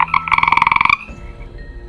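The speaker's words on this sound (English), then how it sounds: "And Randy's a frog." A frog croak sound effect in a read-aloud children's story: one rapid, pulsing, ratcheting croak lasting about a second, loud and close, followed by a quiet tail.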